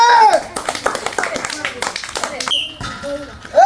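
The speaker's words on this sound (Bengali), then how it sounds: "তো ওনার জন্য হয়ে যাবে একটা তালি।" A crowd at an outdoor ball-throwing prize challenge gives a burst of scattered hand claps for a contestant, with voices chattering and calling over the applause.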